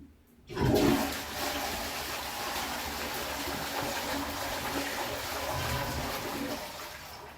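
A Geberit toilet flush mechanism being tested, starting with a sharp release and then a strong, steady rush of water pouring into the bowl that keeps running close and loud with no talking.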